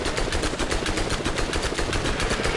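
Rapid automatic gunfire from the Borderlands video game, a dense, steady stream of loud shots roughly ten per second, continuous and up close with no voices over it.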